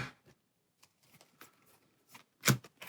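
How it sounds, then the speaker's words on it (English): Cards being shuffled during a solo session of the Hero Realms deck-building card game, a few quiet riffling bursts ending in a louder snap, close up. "Shuffling, and he's going to heal 5."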